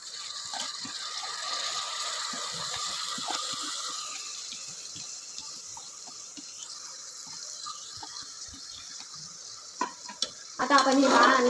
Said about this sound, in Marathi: डाळ आणि तांदूळ फोडणीत चांगले मिक्स करून घेतले की खिचडीला स्वाद खूप छान येतो